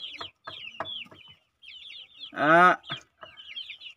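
Chickens clucking and chirping close by under a chicken coop in short bursts, with one louder, drawn-out squawk in the middle.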